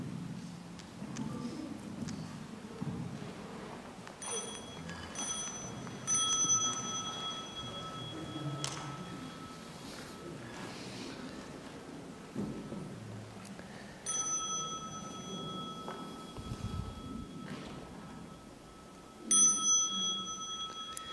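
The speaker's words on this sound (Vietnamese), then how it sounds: "Bây giờ đại chúng nghe chuông," A bell rings at a Buddhist temple to call the assembly, giving several clear metallic strikes with long sustained tones, spaced apart, over faint room noise and soft movement.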